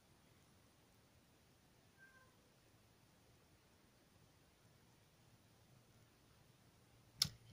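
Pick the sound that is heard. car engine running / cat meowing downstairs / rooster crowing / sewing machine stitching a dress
cat meowing downstairs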